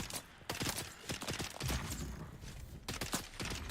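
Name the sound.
gunfire in Dune video game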